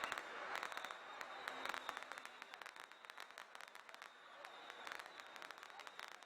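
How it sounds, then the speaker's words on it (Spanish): Fireworks and firecrackers crackling at the Matsu pilgrimage tour in central Taiwan, a dense, distant rattle of pops with crowd noise and applause, continuous and fairly faint. "Los fuegos artificiales promovieron el auge de la actividad."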